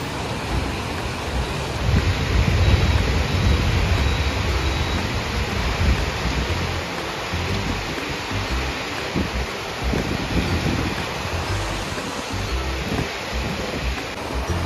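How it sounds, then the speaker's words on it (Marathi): Heavy rain pours down outside in a steady, dense wash of noise. It stays loud and unbroken the whole time, with gusty wind roaring into the microphone and no voices. "खूप जोरात पाऊस आलाय"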